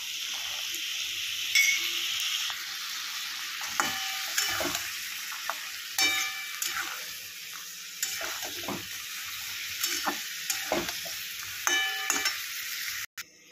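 Cauliflower korma with spice paste and peas being stir-fried, a soft continuous sizzle under repeated scraping and clinking strokes of a spatula against the pan, close and fairly quiet.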